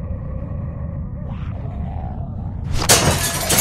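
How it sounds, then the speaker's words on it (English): A glass window shatters in The Walking Dead video game: after a low, quiet hum, a sudden bright crash of breaking glass erupts near the end, loud and close, with tinkling fragments trailing off. "shatter that window"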